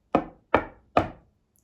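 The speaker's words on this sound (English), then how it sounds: "Heard knock." Three firm, evenly spaced knocks on a wooden door, loud and close, each with a short decaying ring, nothing else around them.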